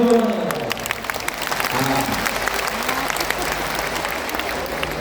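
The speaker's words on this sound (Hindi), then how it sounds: "एक बार खुद के लिए जोरदार ताली बजाएं" Audience at a Shiv Mahapuran katha in Bathinda, Punjab bursting into loud, sustained applause, a dense wash of clapping hands that carries on steadily for several seconds without letting up.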